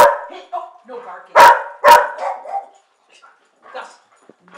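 Two loud, close dog barks sound about half a second apart amid excited yips and whines, while people talk over the commotion.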